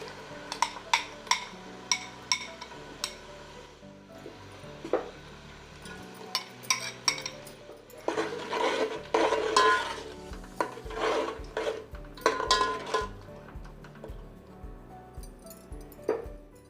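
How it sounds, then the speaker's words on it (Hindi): Spice masala for chicken korma with bay leaves, cloves and green cardamom being fried on a high flame, with a sizzle and repeated sharp clinks and scrapes of a spoon against the pan. "तीन से 4 मिनट हम इसे तेज़ आंच पर भूनेंगे"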